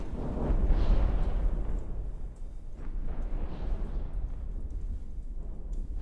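Revolving blast gun fire and explosions in From The Depths, a heavy continuous rumbling roar with swelling booms, dense and loud throughout with no talking.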